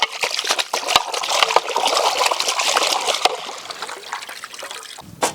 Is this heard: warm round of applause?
no